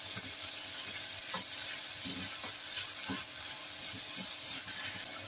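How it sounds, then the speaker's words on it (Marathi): Ginger and garlic frying in a pan, a steady sizzle with light stirring taps and scrapes throughout, close and continuous, with no talking. "इथे आपले आलं आणि लसूण फ्राय झाले."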